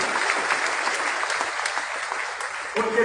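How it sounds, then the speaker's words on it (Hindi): An audience at a public speech in Nagpur breaks into sustained, even applause, a dense wash of clapping that holds steady and swells slightly at the end, with a voice briefly audible. "गांव के लोगों के लिए तालियां बजाओ सबसे ज्यादा"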